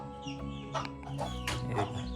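Chickens cluck in the background of a Konkan village, with a few short, close clucks and calls rising over a steady low murmur.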